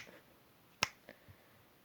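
A single sharp finger snap, crisp and close, performed during a card trick, followed by a couple of faint small clicks in otherwise quiet surroundings.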